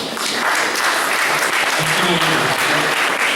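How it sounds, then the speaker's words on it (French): Dense applause fills the air at an outdoor air show ceremony tied to the Patrouille de France at a local aerodrome, steady clapping from a crowd throughout with faint murmurs beneath. "applaudissons-nous"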